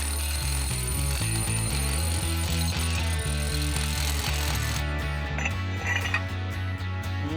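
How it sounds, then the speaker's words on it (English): A drill bores into rock for a lake dock, a loud, close, pounding hammer-like clatter with a steady rapid rhythm and metallic ringing, running continuously and shifting in tone near the end. "So X marks the spot. Let's drill."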